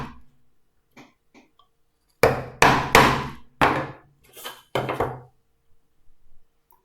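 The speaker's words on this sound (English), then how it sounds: "hit down on the chisel too many times and you end up burying the chisel in the wood" A chisel is struck into wood with a few light taps, then about six sharp, loud, closely spaced knocks, then softer taps trailing off, all near and without speech.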